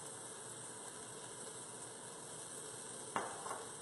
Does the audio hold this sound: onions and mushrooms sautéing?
yes